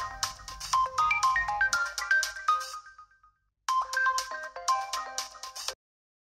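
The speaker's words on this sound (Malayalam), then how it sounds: "ഇതാരാ ഇപ്പൊ എന്റെ ഫോണിൽ വിളിക്കാൻ?" An incoming call sets off a mobile phone's melodic ringtone, loud and close, playing through one bright musical phrase, pausing briefly, then repeating.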